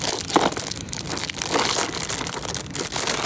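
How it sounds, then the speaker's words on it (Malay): Plastic wrap on a Monsta Galaxy card deck box crackles and crinkles close up as it is torn open, a continuous run of crisp crushing rustles with a few louder bursts. "So jom kita buka dia punya plastik."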